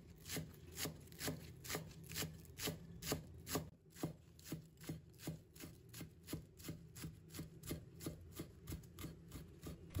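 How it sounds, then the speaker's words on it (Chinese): A knife chops spring onion leaves into small pieces on a cutting board, steady rapid strikes repeating evenly for about ten seconds, close and fairly soft, with no voices. "把葱白去掉不要，把葱叶切成葱花"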